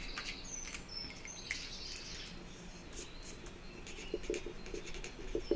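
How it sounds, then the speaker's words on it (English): A note is written by hand, faint scratchy pen strokes in short bursts, with light bird chirps in the background. "Let me write that down."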